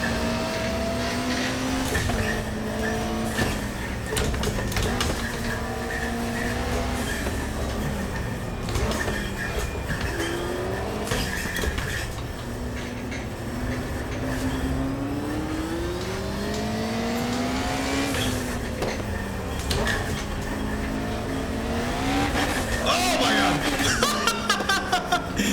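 Simulated car engine revving in a racing simulator on a Prosimu T1000 3DOF motion rig, rising and falling in pitch with sharp RPM surges, loud and continuous throughout, with occasional brief voice underneath.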